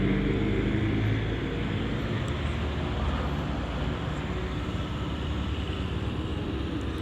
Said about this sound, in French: excusez-moi si vous entendez des motos ou des voitures